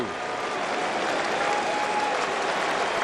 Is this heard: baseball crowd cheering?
yes